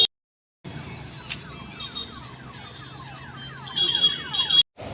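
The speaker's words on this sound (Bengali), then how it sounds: "এই দেখো অ্যাম্বুলেন্সে করে নিয়ে যাচ্ছে" An ambulance siren wails in rapid repeating sweeps on a road, fairly loud and steady amid traffic noise after a short silence, growing more intense near the end.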